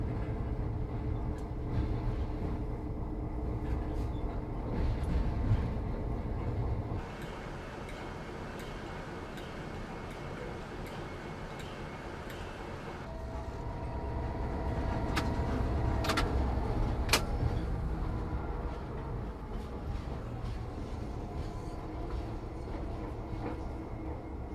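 A train running onto the up loop at Theale gives a steady, close rumble of wheels on track with rhythmic clicking over rail joints, swelling and easing across the run.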